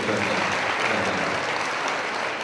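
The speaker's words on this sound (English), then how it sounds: "Please give them a big round of applause." A crowd at a Nigerian reunion event bursts into thick, continuous applause that stays loud and even throughout, with no voices breaking through.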